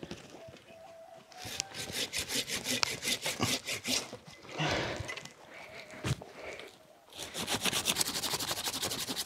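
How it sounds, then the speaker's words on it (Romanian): A hand saw cuts a notch into the underside of a sagging apple tree branch during spring pruning, rapid rasping back-and-forth strokes in bursts with brief pauses, close and moderately loud. "Voi face crestătura sub el."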